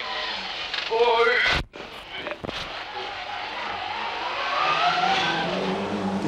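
Tommy Mäkinen's rally car races through a 1996 Indonesia WRC stage, heard from inside: a loud engine revving and shifting, a sudden hard jolt with a short cutout, then the engine climbing again, with voices talking.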